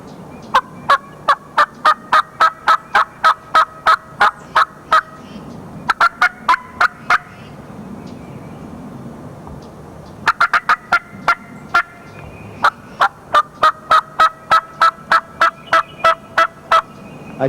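A turkey call imitating hen yelps to draw in a gobbler, loud, close rapid series of sharp notes in bursts, with pauses between sequences in an open field setting.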